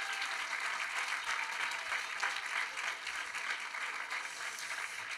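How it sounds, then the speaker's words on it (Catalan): An audience applauds at a student awards ceremony, a steady wash of clapping heard somewhat distant and moderate in level, continuing evenly throughout. "un aplaudiment també pels que us ho han treballat"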